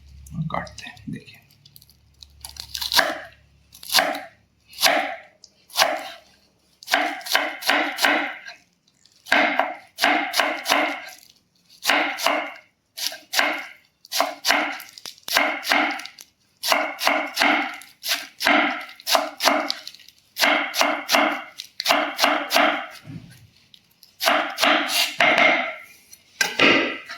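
A knife cuts saag (leafy greens) on a board in steady, repeated clusters of crisp chopping strikes, close and fairly loud, with short pauses between runs.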